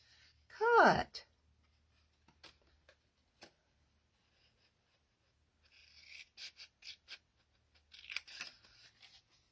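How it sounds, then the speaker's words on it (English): Scissors snip a small wedge out of paper for a tea light lantern craft, with a loud close cut near the start and then faint scattered snips and paper rustles. "I'll cut that little wedge."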